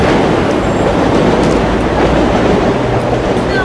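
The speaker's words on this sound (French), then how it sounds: "Et toi, tu les entends, les trains?" A train passes by a housing estate, Cité Paul Eluard, as a loud, steady, dense rumble with rattling wheels that fills the whole stretch without a break.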